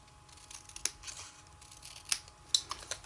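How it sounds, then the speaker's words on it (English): Scissors snipping through the bottom of a paper label during card-making, a few separate crisp cuts spaced apart, close and fairly quiet with no talking. "that is where I'll cut the bottom off"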